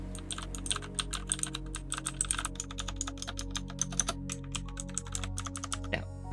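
Steady, fast typing on a custom mechanical keyboard with customized keycaps, a dense run of crisp close clicks and clacks, no talking.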